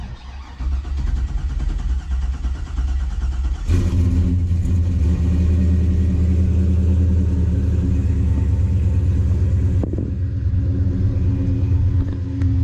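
An LS-swapped car engine cranks and catches about four seconds in, then settles into a loud, steady, close idle with a deep rumble, with a brief blip near the end.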